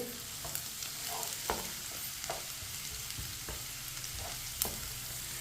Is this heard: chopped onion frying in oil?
yes